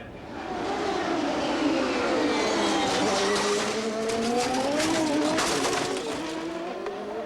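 CART Champ Car race cars at the 1996 Vancouver round racing past after a big crash, engines screaming loudly with rising and falling pitch sweeps as several cars pass close, under faint crowd and commentary noise.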